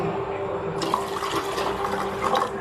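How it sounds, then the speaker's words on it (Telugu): Water pours into a bowl of instant oats, milk and chia seeds in a home kitchen, a steady splashing trickle starting partway through and running to the end, fairly close. "వాటర్ వేస్తాం."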